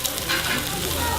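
Pork belly sizzling on a hot stone griddle, a steady close-up crackle and hiss of frying fat with no pauses.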